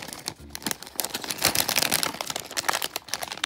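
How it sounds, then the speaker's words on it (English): Plastic wrapper of a LEGO Movie 2 minifigure blind pack crinkles and crackles as it is cut with scissors and torn open by hand, close up, in a dense run of rustling bursts. "Go ahead and open up our first pack."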